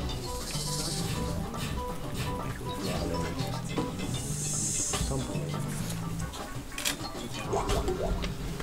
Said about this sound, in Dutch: hier heb je een slang, die komt uh, achter je aan